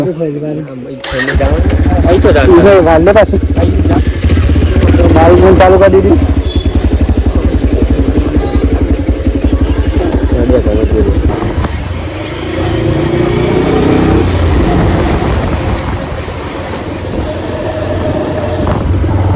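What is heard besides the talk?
motorcycle starting and riding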